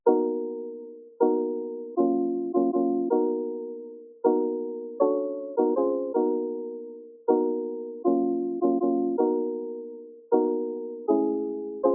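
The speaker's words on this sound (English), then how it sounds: "the chords were just this random one shot I got from this Reddit kit" A sampled chord stab repeats in a loose rhythm, each hit clean and mid-pitched with a quick fade, playing alone with no other sounds.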